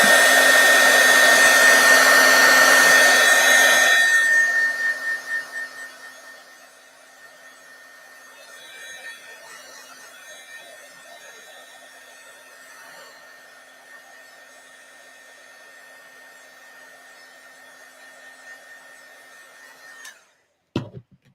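A heat dryer blasts loudly at close range for about four seconds to dry an ink line on a handmade winter card, then winds down. Quiet rustling and faint handling follow, and a short clatter comes at the end.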